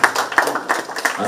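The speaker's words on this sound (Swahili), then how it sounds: "Makofi kwa draw yetu." Rhythmic clapping at a women's football tournament draw event in Machakos, several quick steady claps close by, with no talk over them.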